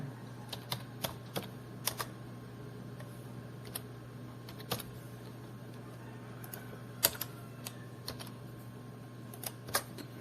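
Keys clatter on a computer keyboard as tax details for AdSense are typed into an online form: sparse, irregular clicks and short bursts, fairly faint, over a steady low hum with no voices.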